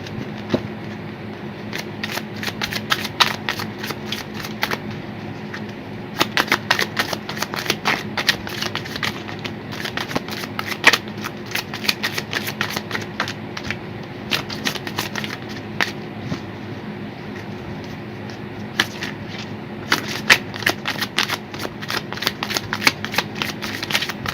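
Tarot cards are shuffled vigorously and continuously, a close, rapid flutter of riffles and slaps in repeated bursts for over twenty seconds.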